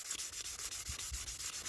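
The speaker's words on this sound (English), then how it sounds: "you grab the sandpaper and then you start sanding a little bit" Rhythmic scratchy rubbing of sandpaper, quick back-and-forth strokes repeating steadily, close and fairly quiet.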